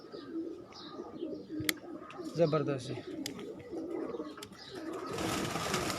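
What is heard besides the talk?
pigeons cooing on a rooftop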